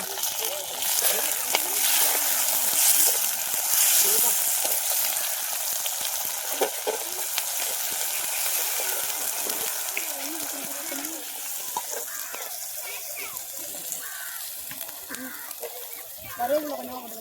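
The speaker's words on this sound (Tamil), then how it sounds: "நல்லா வதங்கினால இஞ்சி பூண்டை போட்டுக்கலாம்." Ginger and garlic sautéing in hot oil in a pan for a South Indian egg gravy, a loud steady sizzle with occasional stirring clatter, fading somewhat over time while a person talks over it.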